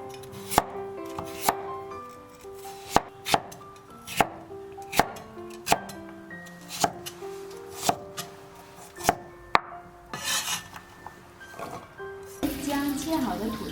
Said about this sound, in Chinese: 土豆去皮切丁，